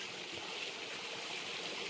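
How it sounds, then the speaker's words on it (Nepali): Rain falls steadily outdoors on a hillside cattle-herding trail, making a continuous even hiss with no pauses or voices. "भर्खर त पानी परिरहेछ"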